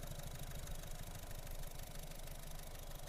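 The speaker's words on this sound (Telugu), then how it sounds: "చాలా స్మూత్ ఉంది సార్ ఇంజిన్" A 2018 Honda BR-V 1.5-litre petrol, manual, four-cylinder engine idles steadily and smoothly up close, a continuous even hum with no knocks or rattles throughout.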